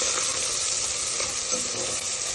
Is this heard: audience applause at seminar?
no